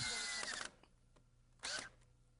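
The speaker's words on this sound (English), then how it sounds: "drills clearance holes for 3-inch rust-resistant deck screws, which will hold the frame together" A power drill bores clearance holes for 3-inch rust-resistant deck screws in a wooden doghouse frame, whirring loudly for a moment, stopping, then giving a second short burst.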